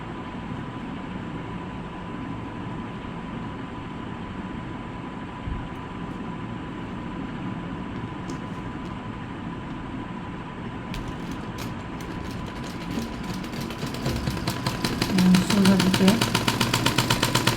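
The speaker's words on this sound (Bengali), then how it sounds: "এখন আমরা এটাকে উল্টা দিক থেকে সেলাই দিব।" A sewing machine stitches the sleeve of a three-piece dress. It starts with a low background hum, then breaks into a fast, steady run of stitching in the last few seconds, with a brief spoken remark nearby.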